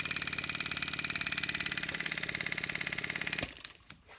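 A model steam engine driven by compressed air chugs in a fast, steady rhythm of even exhaust beats, close and loud, then abruptly cuts off near the end, leaving a few faint clunks.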